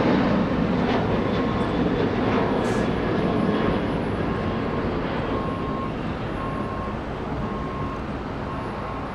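An arriving airliner at Los Angeles International Airport, heard as a broad, steady engine roar from some distance. It holds loud and continuous and fades gradually toward the end, with no voices.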